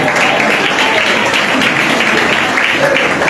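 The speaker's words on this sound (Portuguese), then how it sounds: "Bate palmas para o Senhor Jesus." Clapping from a church congregation at an evening service, a steady dense wash of many hands, fairly loud and continuous with faint voices mixed in.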